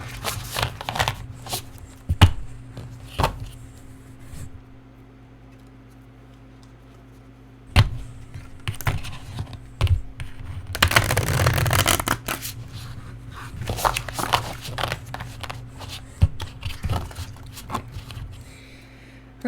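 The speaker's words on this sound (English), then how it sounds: "let's shuffle these cards and then we will pull 4 more" A deck of tarot cards being shuffled by hand, giving repeated riffling and slapping bursts of varying length with short pauses between them, close and fairly loud, with a steady low hum underneath and no talking.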